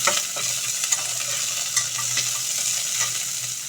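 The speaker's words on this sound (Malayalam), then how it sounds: "ഉള്ളിയൊക്കെ നന്നായി വഴന്നു വന്നു. 2 പച്ചമുളക് കീറിയത് ഇടണം." Onions and slit green chillies sauté in a pan with a steady bright sizzle, punctuated by soft stirring scrapes, close and without voices.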